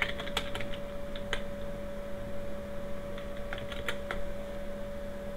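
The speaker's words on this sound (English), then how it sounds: "Let's type in our name here." Soft, close keystrokes tap out a name on a computer keyboard in short irregular clusters over a steady electrical hum, with no talking.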